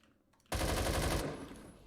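AK-12 assault rifle fire in the Roblox shooter Phantom Forces: a loud, rapid automatic burst of under a second that starts abruptly after near silence and then decays into a short reverberant tail.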